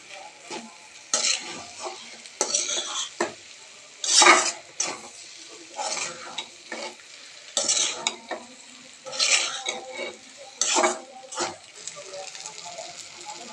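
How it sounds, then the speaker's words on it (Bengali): Noodles with coriander leaves are tossed and stirred in a pan, giving rhythmic bursts of utensil scraping and clatter with faint sizzling between strokes, close and moderately loud. "ধনিয়া পাতা দিয়ে সুন্দর করে নাড়াচাড়া করে মিক্স করে নিতে হবে।"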